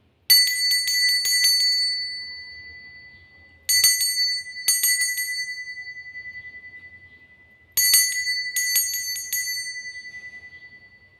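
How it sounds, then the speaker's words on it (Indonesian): A bright bell rings in quick clusters of strikes, three bursts spaced a few seconds apart, each ringing out and fading. "kita akan memulai dengan ditandai lonceng berbunyi"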